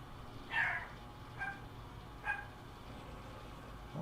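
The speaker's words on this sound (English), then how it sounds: "doggies are barking now" Dogs bark somewhere in the distance, several faint separate barks spread across a few seconds, with a soft steady background beneath them.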